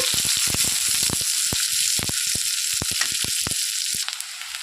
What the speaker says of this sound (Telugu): ఉల్లిపాయలు పచ్చిమిరపకాయలు వేసాను కొంచెం వేగాలండి